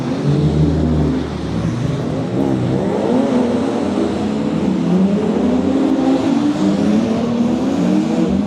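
A Volvo diesel car revs at a drift event in Germany. The engine note is loud and sustained, rising and falling steadily with outdoor crowd ambience mixed in.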